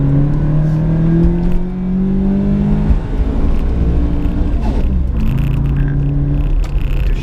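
A 1991 Nissan Silvia engine revs through gear changes, a loud close whine that climbs in pitch, drops at the shift, then rises again, with road noise underneath.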